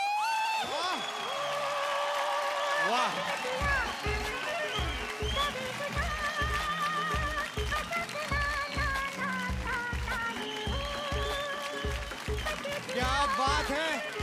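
Audience applause during a standing ovation at a televised Marathi dance competition, a dense wash of clapping that runs steadily under a woman's excited, loud talk and background music with a thumping beat.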